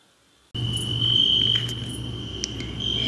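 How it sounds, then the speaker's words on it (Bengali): After a short silence, crickets start chirping in one continuous shrill trill at night near a pond among dense trees, steady and fairly loud throughout. "এক টানা ঝিঝি ডেকে চলেছে"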